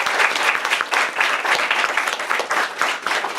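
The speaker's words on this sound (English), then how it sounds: "Let's give both of them a round of applause." Audience members at a liberal arts business program event clap loudly and continuously for two students, a dense, even round of applause with no talking.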